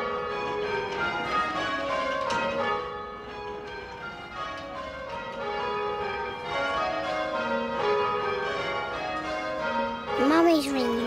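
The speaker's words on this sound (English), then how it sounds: "The ropes pull the bell round." Church bells swung round by pulls on their ropes ring in a steady overlapping peal, close and full, with a voice briefly audible near the end.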